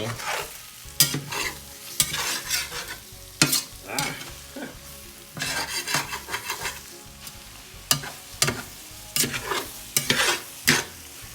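Shrimp and eggs cook in a cast iron pan for a breakfast burrito, a constant sizzle broken by repeated scraping stirs and spatula strokes, close and loud with no talking.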